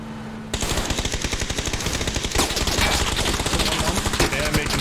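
Rapid automatic gunfire in the video game PUBG, loud and continuous with dense rhythmic bursts of shots that run almost without pause after a short quiet start.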